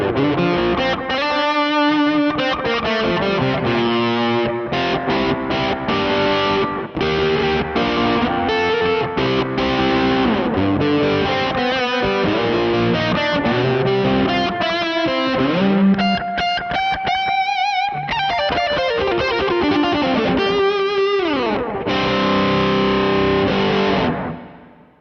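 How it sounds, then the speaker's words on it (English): An electric guitar on the bridge pickup, with its tone rolled back a little, is played through a Tube Screamer into a plexi drive with plate reverb and a single-repeat delay. Loud, distorted chords and riffs run continuously, with no talking. "plate reverb, some like 1 repeat delay, and then the tube screamer in front of the plexi drive, rolling the tone back on the bridge pickup a little bit"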